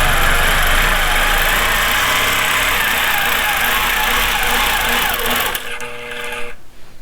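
A longarm quilting machine runs at a steady mechanical hum with rapid stitching while basting a quilt, close and unbroken, then slows and quiets near the end with no voices.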